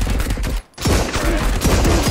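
Gunfire from SVT-40 rifles in a video game, heard as a dense string of loud, close shots with a brief gap midway before the firing resumes.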